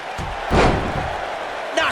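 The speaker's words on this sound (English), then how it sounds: "Knocked off his feet. Now that's a takedown." A wrestler is slammed to the mat in a takedown in the WWE 2K19 video game: one heavy thud with crowd noise, and game commentary talking over the arena roar.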